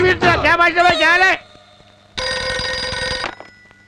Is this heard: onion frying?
no